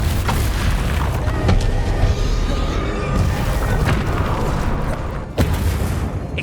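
A Confringo fire spell explodes in the video game Hogwarts Legacy: dense, rumbling combat bursts with several sharp booms and a sudden loud blast near the end, close and forceful.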